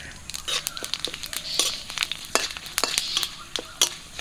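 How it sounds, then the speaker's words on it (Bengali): Bay leaves, four dried chillies and panch phoron spluttering in warm mustard oil, sharp irregular crackles and pops close up over a soft sizzle, with brief stirring scrapes. "তেলটা হালকা গরম হয়ে গেছে, দুটো তেজপাতা দিয়ে দিচ্ছি, 4টে শুকনো লঙ্কা, পাঁচফোড়ন।"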